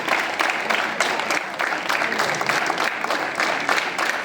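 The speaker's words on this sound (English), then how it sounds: "are you clapping or just holding your hand?" Students clap together during a school assembly, a dense, steady patter of many hands that keeps up without a break and stays fairly loud throughout.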